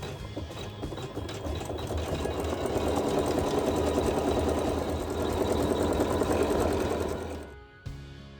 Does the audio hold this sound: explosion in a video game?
no